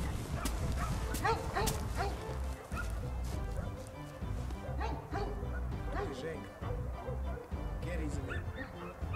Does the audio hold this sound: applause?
no